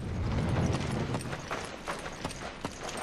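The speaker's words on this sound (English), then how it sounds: "jump down into the mine cart" Mine cart rolling along rails in Resident Evil 5, a steady rumbling clatter with rhythmic clip-clop-like wheel knocks, continuous and moderately loud throughout with no talk.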